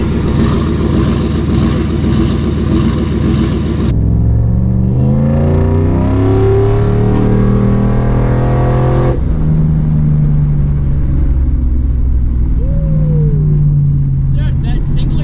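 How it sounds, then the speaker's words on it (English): A Coyote-swapped, big-turbo Ford LTD wagon with stock cams and a single exhaust revs loudly and close, its engine climbing and falling through several sweeping pulls with a slight lope, then settling. "Dude, that single exhaust, this thing sounds crazy"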